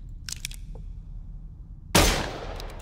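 A sudden loud gunshot cracks out in a quiet horror game scene, after a few faint earlier clicks, and its sharp blast trails off into a decaying echo.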